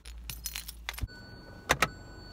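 Keys jangle in two quick, bright bursts as they change hands, near and clear, following some earlier rustling and handling noise with no talking.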